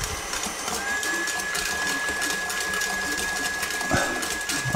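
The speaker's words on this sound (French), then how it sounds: "mon batteur est peut-être un peu gros" An electric mixer at low to medium speed beats egg yolks with hot sugar syrup for buttercream, a continuous motorized whir with a thin steady whine and faint rattling from the beaters, with no talking.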